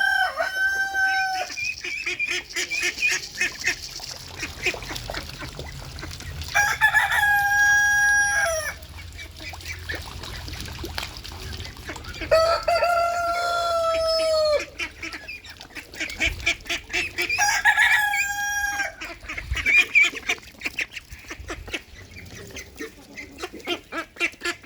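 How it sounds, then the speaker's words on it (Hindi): Ducks being fed mealworms, with repeated loud quacking and honking calls in bursts, interspersed with rooster-like crowing and clucking from nearby fowl and quieter gaps between the outbursts. "अब फीड करते हैं मेरे प्यारे डक्स को"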